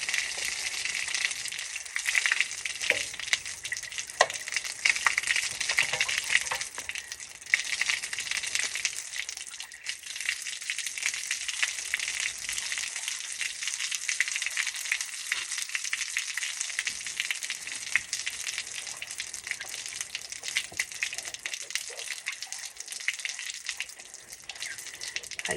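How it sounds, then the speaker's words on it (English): Hot water tank being flushed, with water draining in a steady hissing rush that runs loud and continuous throughout, without speech. "what they recommend is flushing this tank out"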